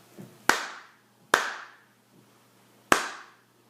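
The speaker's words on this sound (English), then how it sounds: "Here's what it sounds like if I clap this rhythm." Three sharp, close hand claps ring out alone with short reverberant tails; the first two come in quick succession, then a longer pause before the third.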